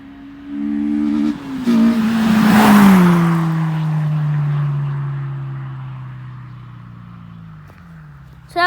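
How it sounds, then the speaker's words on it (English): A Honda Civic Type R EP3 flies past with a rising engine note that swells loud as it nears, then drops in pitch and fades steadily as it drives away, ending in a sudden close noise. "So that was the Civic flyby."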